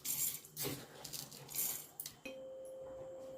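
A spoon scrapes and taps as sugar is added to a mixer jar, giving a few light metallic clinks and scrapes up close, followed by a quiet steady tone.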